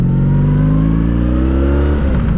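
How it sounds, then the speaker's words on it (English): A 1984 Honda Sabre VF1100S motorcycle engine revving with a high idle, a loud, steady, close-up drone that rises in pitch throughout. "When you go the whole way to the left, the bike revs."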